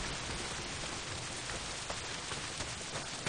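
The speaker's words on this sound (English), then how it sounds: "not if it's pissing down rain" Heavy rain pours in the video game Days Gone as a dense, steady hiss with faint scattered drop impacts, loud and continuous with no speech.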